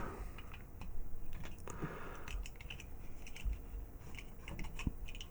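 Small plastic parts of a Transformers figure click and tick as a piece is folded into place, a series of faint, close, irregular taps and snaps with no talking.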